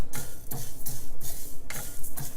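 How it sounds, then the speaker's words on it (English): Whole spices for homemade curry powder and garam masala are dry-roasted and stirred in a pan on a low stove, giving steady rhythmic scraping strokes about twice a second, close and clear, with no talking. "now I'm going to turn the stove on very low and keep stirring it"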